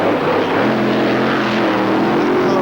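A drag racing car launches from the start line at the 1990 Santa Pod Easter Thunderball, sounding weak, with possible clutch sections locking up. A loud, steady engine roar fills the whole stretch, with no talk.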